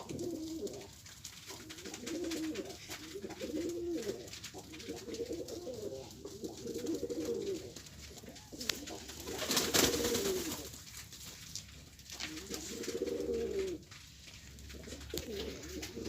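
Domestic pigeons, white and grey-winged smoky birds, coo in repeated soft rolling phrases close by, several calls overlapping in a steady rhythm over a faint background hiss.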